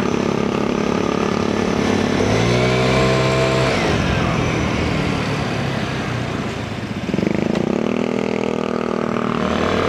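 A Vespa Primavera 2024 scooter engine revs on a night ride, rising in pitch twice with a short dip between, loud and close throughout with no talking.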